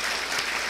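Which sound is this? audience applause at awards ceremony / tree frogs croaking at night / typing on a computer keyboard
audience applause at awards ceremony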